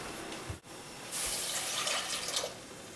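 Water runs from a tap into a cup for pickle brine, a steady splashing stream that briefly stops and then comes back louder and brighter as the cup fills, close and alone.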